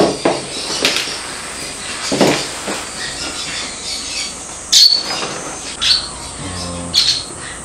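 A green-cheeked conure gives loud, harsh squawks and shrill chirps close by, coming in repeated short bursts over a steady hissing room background.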